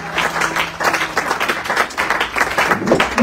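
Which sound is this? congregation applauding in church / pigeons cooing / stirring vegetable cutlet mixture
congregation applauding in church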